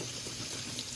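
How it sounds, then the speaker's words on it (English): Broccoli is rinsed under a running kitchen tap, giving a steady, close splashing hiss of water with no talk, lasting about a second. "Hugasan ang"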